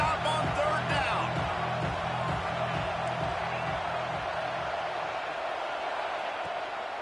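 A college football stadium crowd roars on a third-down play, a broad, sustained wall of cheering and whooping heard over commentator talk, fading slightly toward the end.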